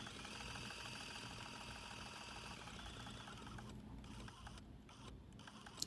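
A sewing machine runs a blanket stitch on a quilt block applique, a quiet steady mechanical whirr with rapid needle ticking that pauses briefly a few times near the end.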